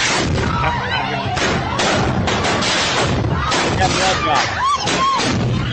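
Fireworks going off in rapid, chaotic bursts of bangs, booms and crackles, loud and continuous, with people's voices mixed in among the explosions.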